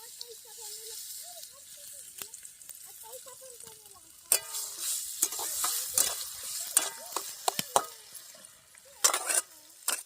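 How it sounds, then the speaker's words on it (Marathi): Onions fry in oil in a kadhai over a wood-fired chulha, a soft sizzle with repeated scraping and clanking of a stirring spoon against the pan. A voice speaks early on before the clatter grows louder. "कांदा मस्त शिजलाय आता तेल वतन घेते"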